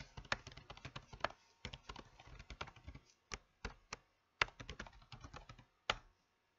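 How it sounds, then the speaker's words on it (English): Someone types on a computer keyboard in quick, uneven bursts of close, crisp key clicks. Brief pauses separate the runs, and a few isolated harder taps come near the end. "I'll type it in for you guys."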